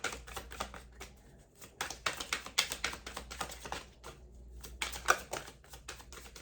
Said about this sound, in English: I keep shuffling, and I've shuffled for a while